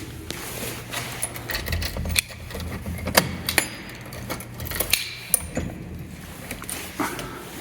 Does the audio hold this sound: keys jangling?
yes